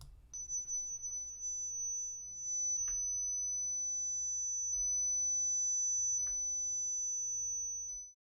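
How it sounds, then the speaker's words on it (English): A steady 6 kHz sine test tone played through a Heathkit preamp holds unbroken for about eight seconds, with faint low hum and a few soft clicks beneath it. "Let's change our test tones now to 6 kHz."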